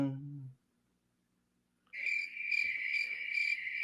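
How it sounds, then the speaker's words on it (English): Crickets chirp steadily at night, a bright, close, continuous trill with a faint pulsing rhythm that starts after a brief voice and a short silence. "Look, I might have crickets and frogs."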